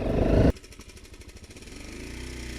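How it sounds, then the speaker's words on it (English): A big, heavy KTM rally motorcycle on a steep climb in the Dakar 2017 rally: a loud burst of engine noise cuts off abruptly, then the engine lopes unevenly at low revs. "Getting going on a big heavy KTM"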